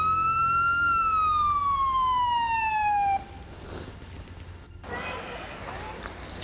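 A police car siren wails in a long descending sweep, loud and close, then cuts off and gives way to quieter background noise with a brief burst of scuffling sound near the end.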